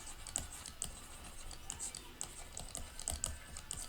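Quiet, close typing on a computer keyboard, a fast run of light key clicks with a few sharper taps and no speech.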